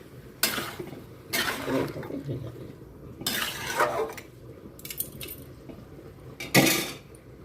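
A spoon clanks and scrapes against a cooking pot while free-range chicken meat is stirred without oil, several distinct metallic clattering bursts spaced a second or two apart over a quiet background.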